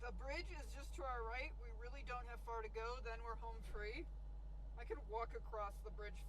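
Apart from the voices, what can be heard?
None of the usual background noises is heard.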